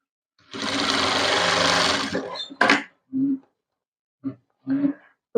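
Sewing machine running a long continuous stitch along a saree seam, loud and steady for about two seconds, followed by several short separate bursts of stitching with pauses between.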